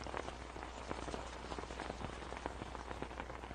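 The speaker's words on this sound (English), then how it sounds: "A savage hailstorm has come to deliver a deadly rain of ice." A hailstorm in the game Pharaoh: Cleopatra patters down as a dense, faint, steady rattle of ice striking the ground, with scattered sharper taps and no voices.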